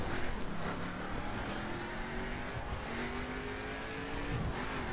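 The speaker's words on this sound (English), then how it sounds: "driving all cars part number 78, the Spyker C8 Aileron" Spyker C8 Aileron sports car engine in The Crew racing game, a steady loud drone with rising rev tones climbing through gear changes, continuous throughout with no talking.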